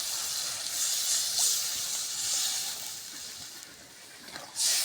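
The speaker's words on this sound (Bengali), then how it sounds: "এখন আমি নারিকেলের দুধটুকু দিয়ে দিব।" Coconut milk poured into a hot, spiced pointed gourd curry, a steady loud sizzling hiss close by that swells and eases in waves and flares sharply again at the end, with no voices.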